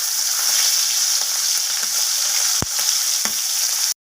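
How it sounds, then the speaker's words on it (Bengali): Bata fish coated in salt and turmeric sizzle steadily in hot oil, close and loud, with a couple of sharp spatula knocks as a piece is flipped, before the sound cuts off abruptly. "লবণ আর হলুদ মাখিয়ে রাখা মাছগুলোকে তেলের মধ্যে একে একে দিয়ে মাছগুলোকে 2 পিঠ ভালোভাবে ভেজে নেব।"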